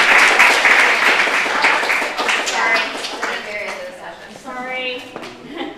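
A conference audience breaks into loud applause, dense clapping that swells at first and then thins out, with a few voices talking over its tail.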